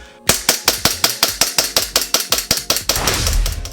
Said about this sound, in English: I almost forgot how loud and almost reckless these WeTech pistols sound.